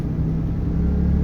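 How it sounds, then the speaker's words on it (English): A Mercedes truck engine in the video game Euro Truck Simulator 2, a loud, steady, low rumbling drone held evenly throughout with a faint mid-range hum on top. "Having driven these trucks in real life, I can tell you they sound exactly like this."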